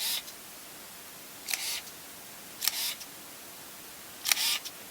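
Contax G1 camera held at half-press to lock focus, then fired: three separate crisp mechanical shutter clicks, each a short burst with a brief whirring tail, spaced over a quiet room background with no talking.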